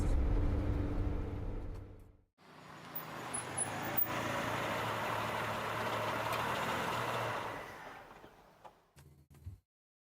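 A car engine drives in the Spirit Hunter: Death Mark II video game, a low steady motor rumble that cuts out briefly, resumes as a long road drone, then fades with a few closing knocks.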